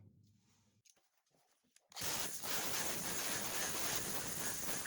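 A power tool grinds primer off the factory lead filler on a 1968 Dodge Charger body. After a couple of seconds of faint shop noise it starts abruptly, then runs as a steady, loud abrasive roar to the end.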